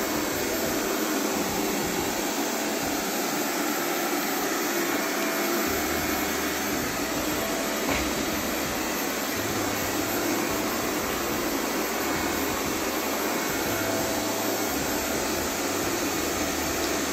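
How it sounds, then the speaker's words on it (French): A robot vacuum cleaner runs across a floor with a steady, loud whirring hiss. Its low motor tone changes a little partway through as it moves, and no voice is heard. "L'aspirateur n'est pas haut en lui-même."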